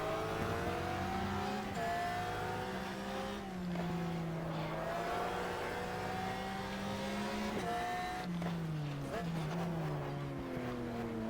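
Race car engine tones from a Corvette in the racing video game GTR2 sweep up and down continuously, with several stepped downshifts in pitch, loud and steady throughout, with faint talk underneath.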